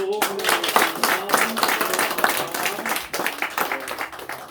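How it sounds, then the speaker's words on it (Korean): Clapping from a church congregation, a steady patter of many hands, with voices mixed in underneath. "우리 다 같이 박수로"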